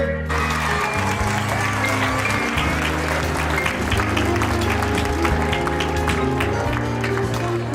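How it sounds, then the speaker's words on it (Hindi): A seated audience at a Jawahar Navodaya Vidyalaya alumni meet in Laduna, Mandsaur, applauds loudly to welcome a teacher. The dense clapping runs steadily for the whole stretch, with music playing underneath. "खड़े होकर एक बार लोहार सर का जोरदार तालियों से स्वागत कीजिए"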